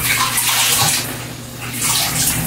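Water runs steadily from a tap to fill a basin for hand-washing laundry, a continuous close, loud splashing rush with no talking.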